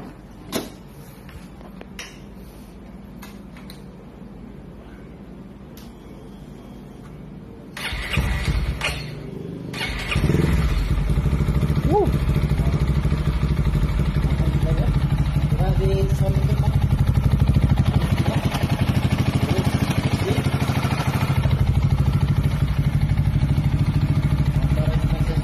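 Yamaha X-Max 300 scooter bored up with BRT camshaft and valve parts: quiet clatter and handling at first, then the engine starts and settles into a steady, close, smooth idle with faint talk over it.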